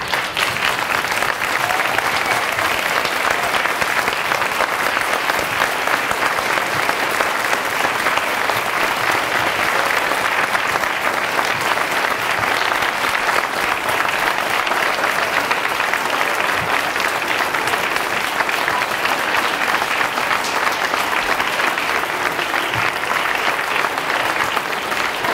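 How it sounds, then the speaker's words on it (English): A school gym crowd at a Veterans Day assembly gives a long, steady round of applause for standing veterans, dense and even clapping that carries on without pause for over twenty seconds. "could we have just our veterans stand for a round of applause so we can recognize you?"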